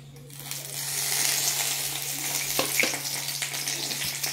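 Curry leaves frying in hot oil with mustard seeds in a pan, a steady close sizzle with light crackles and a few small pops, no talking.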